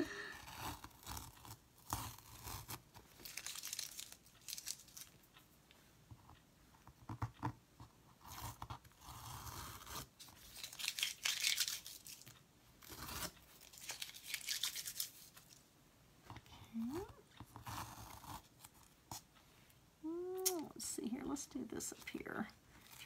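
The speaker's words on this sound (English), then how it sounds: "peeling this tape off." Painter's tape is peeled off a canvas close up, giving faint repeated ripping and tearing strips under soft, quiet talk.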